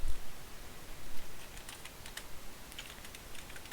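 Fingers tap quickly on a computer keyboard, a quiet run of close key clicks in uneven bursts over a faint background hiss.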